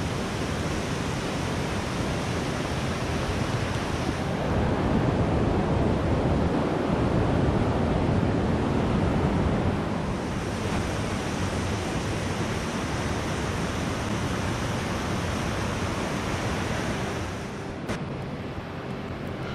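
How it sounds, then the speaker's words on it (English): Waterfall along the C&O Canal near Potomac, Maryland, a steady broadband rush of falling water that stays loud and constant throughout with no voices. "Yes, another waterfall"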